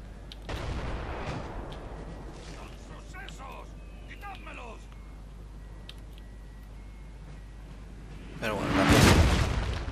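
Artillery booms and gunfire crackle in a Napoleon: Total War battle, a heavy blast at the start and another near the end with lighter distant shots between.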